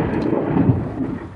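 Deep rolling thunder from a thunderstorm in Naples, Florida, a sustained low rumble lasting the whole moment, loud and close, with rain hissing faintly underneath and no voices.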